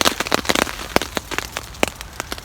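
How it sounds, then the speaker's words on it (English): Heavy rain patters onto a tarp shelter, with scattered sharp drops striking the fabric over a steady soft wash, close and alone. "And it is raining quite hard."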